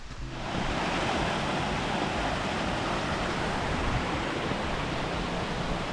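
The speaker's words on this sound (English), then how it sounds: "trail runs along the brook the whole way" Steady broadband rush of a brook running beside a hiking trail in the Great Gulf Wilderness of the White Mountains, loud and continuous after a brief fade-in, with no voices.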